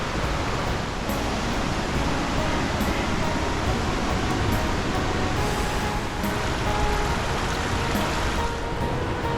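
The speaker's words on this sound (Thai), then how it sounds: "นู่นน้ำตกไหลมาจากพื้นแล้วก็ไปตกเป็นตาดเยอะ" Tad Yuang waterfall in a valley of southern Laos pours without a break, a dense, loud rushing roar of falling water that fills the whole stretch evenly.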